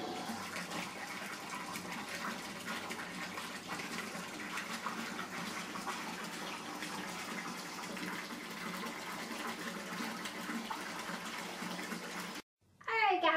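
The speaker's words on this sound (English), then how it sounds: "I'm going to fill up my tub the rest of the way" A bathtub fills with water from the tap in a steady, even rushing stream for about twelve seconds before cutting off abruptly, followed by a brief louder sound at the very end.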